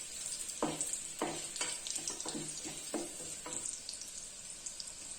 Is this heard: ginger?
yes